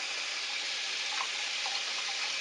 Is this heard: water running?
yes